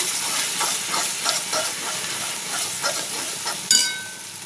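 Turmeric and masala stirred and frying in a pan while cooking mushrooms in Konkan style, a steady close hiss and sizzle with soft scraping stirs and one brief clatter near the end.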